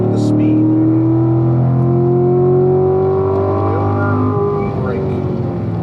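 A car runs at full throttle on a race track, its engine a loud, close, sustained drone that climbs in pitch, then drops briefly as it shifts and settles.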